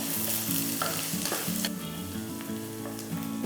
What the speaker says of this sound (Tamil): இந்த பக்கம் இந்த வெங்காயம் வதங்கிக்கிட்டே இருக்கட்டும்